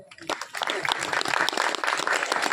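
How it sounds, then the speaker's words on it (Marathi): An audience at a kirtan at the Sangameshwar temple in Vadule bursts into dense, lively applause, many hands clapping together close by for a couple of seconds. "एकदा तुम्ही तुमच्यासाठी जोरदार टाळ्या वाजवा"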